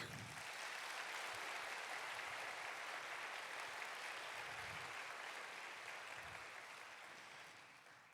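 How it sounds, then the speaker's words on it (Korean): A church congregation claps in encouragement during a young adults' worship service, a steady, even wash of many hands that holds throughout and tapers slightly at the end. "사랑의 마음을 담아 큰 격려의 박수 부탁드립니다"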